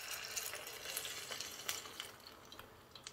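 Beignet dough crackles and sizzles in hot frying oil, a faint, steady spattering hiss with small irregular pops throughout, heard alone without talk.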